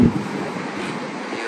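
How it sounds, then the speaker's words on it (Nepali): Cold sea wind blows along a coast on an overcast, rainy day, a short burst of broadband rushing with buffeting against the microphone, close and fairly steady. "दामी चिसो आइरहेछ समुद्रको हावा मस्त बवाल दामी हावा आइरहेछ"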